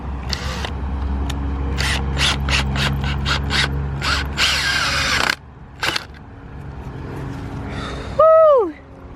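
A final screw is driven into an outdoor shade structure, heard as a loud run of ratcheting, whirring bursts from a power driver, then a pause, a brief clunk, and a rising whine at the end.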